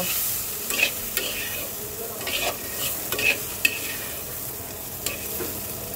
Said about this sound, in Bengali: সবকিছু সুন্দর করে মিক্স করে দেব আর 2-1 মিনিট এটাকে একটু ভাজা ভাজা করব